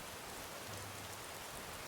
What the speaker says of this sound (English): So here's the rain effects on the water.